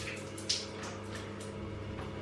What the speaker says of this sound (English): now that I washed the conditioners off and my hair is soaking wet, I'm just gonna like squeeze the water out just a little bit